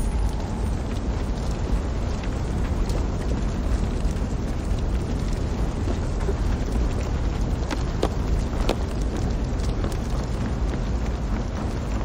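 Fire burning in Assassin's Creed Valhalla, a steady loud roaring rush with faint crackles that runs unbroken throughout.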